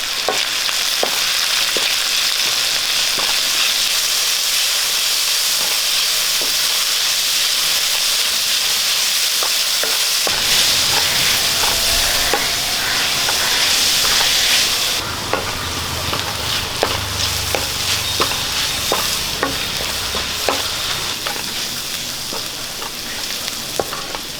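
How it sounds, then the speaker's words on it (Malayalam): Sliced onions sautéing in a pan for a soya chunks masala curry: a loud, steady hissing sizzle that shifts partway through, with scattered spoon scrapes and taps as they are stirred, close up and without voices. "രണ്ട് സവാള അരിഞ്ഞത് പോലെ ഒന്ന് വഴറ്റി കൊടുക്കും"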